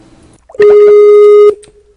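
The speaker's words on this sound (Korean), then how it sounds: "전화 왔는데 잠시만요" A single telephone ring tone sounds once: a loud, clear electronic tone that lasts about a second, with quiet background before and after it.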